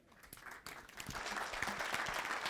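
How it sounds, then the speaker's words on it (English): An audience applauding after a presentation at a business breakfast, a faint patter of many hands clapping that builds and thickens into steady applause across the moment. "let's give him an even better round of applause"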